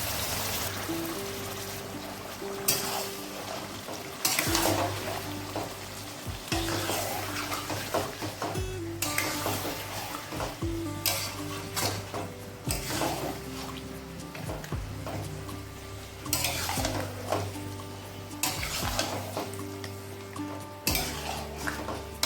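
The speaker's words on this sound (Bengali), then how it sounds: "এবার দিয়ে দেব ম্যারিনেটগুলো," Marinated mutton fries in a pot with garam masala and is stirred, with repeated metal scrapes and clanks of a spoon against the pot over a low continuous sizzle.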